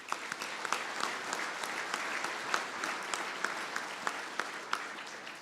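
Steady applause from a convention audience, many hands clapping at a moderate distance in a sustained even wash with no talking over it.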